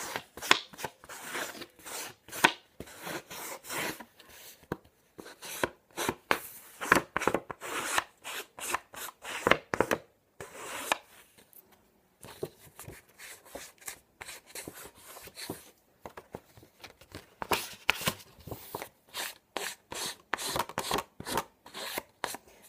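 The edges of a paper envelope card are inked in pink: soft, close dabbing and scrubbing strokes on paper come in quick irregular bursts, with a few short pauses, quiet and without talk.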